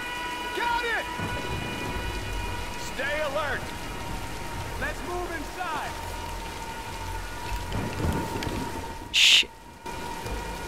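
Rain pours steadily in a thunderstorm in the video game Tomb Raider: Definitive Edition, with thunder rumbling beneath. Voices shout over it and a brief sharp noise bursts near the end.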